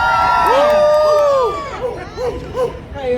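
Crowd at an ice cream shop grand opening cheers and whoops loudly for about a second and a half, then fades into scattered excited shouts and voices.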